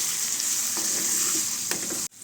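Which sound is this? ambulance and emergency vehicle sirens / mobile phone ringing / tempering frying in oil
tempering frying in oil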